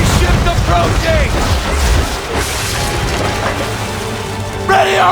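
Cannon fire from an enemy ship during an Assassin's Creed III naval battle, heavy low booms rolling under a continuous din of sea and battle noise, with a voice calling out near the end.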